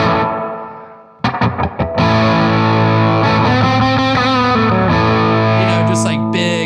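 A loud, distorted electric guitar from a Les Paul plays a funky, swampy opening riff, with a few choppy muted strums leading into sustained, heavily driven chords and bends.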